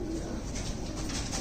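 A Panjabi breed pigeon coos in a low, soft, continuous murmur close by, with steady background hum and no talking.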